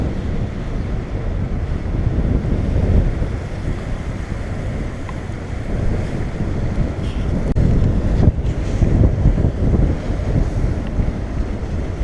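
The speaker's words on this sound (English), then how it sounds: "Wind's still blowing about 25 knots." Strong wind of about 25 knots buffets the microphone aboard a sailboat on the water near Manhattan, a steady loud roar with gusting rumble and water noise throughout, no talking.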